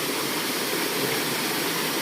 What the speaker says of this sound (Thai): น้ำตกเนาะนะครับ